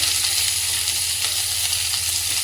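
Onion and green chili fry in a pan with a steady, close hiss and crackle that holds even and unbroken throughout, with no talking.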